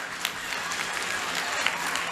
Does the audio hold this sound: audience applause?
yes